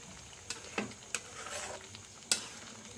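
Egg and potato curry made with small new potatoes is stirred in a pan: soft sizzling runs throughout, broken by a few sharp spoon-against-pan scrapes and clicks spaced irregularly, close and moderately loud.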